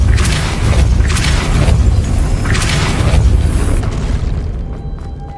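Depulso spell cast in the Hogwarts Legacy video game, a loud booming magical blast with rumbling bursts that fade out at the end.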